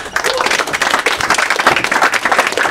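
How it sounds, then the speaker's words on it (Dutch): A loud, dense burst of applause and clapping from an audience at an open podium evening greets a performer, sustained and close throughout. "applaus voor Gerard Scherff."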